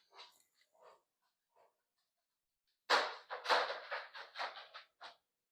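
A dog nearby gives faint, scattered breathy sounds, then a burst of rapid, harsh panting and huffing over the last few seconds, loud and close with short gaps between breaths.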